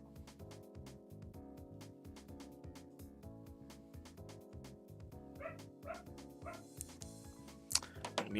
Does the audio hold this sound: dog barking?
yes